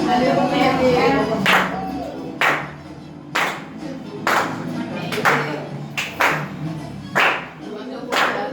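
A church congregation claps hands together during worship music, with about eight loud, sharp bursts of clapping in an uneven rhythm over a steady bed of singing and instruments.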